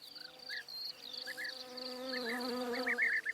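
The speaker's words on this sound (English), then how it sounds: "their preferred prey: bees, bumblebees, wasps, and other flying insects" Bees, wasps and other flying insects buzz in a vineyard, several close, droning wingbeats weaving in and out over a quiet background, with no talking.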